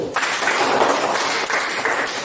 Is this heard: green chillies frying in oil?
no